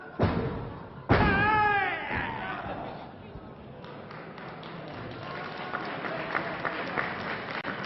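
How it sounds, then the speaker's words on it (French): A wrestling match crowd applauds the two wrestlers in the ring, giving scattered, steady clapping with cheers and shouts over a continuous arena murmur, while a voice talks over it. "le public applaudit les deux catcheurs"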